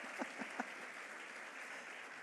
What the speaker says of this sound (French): J'aimerais qu'on nous applaudisse.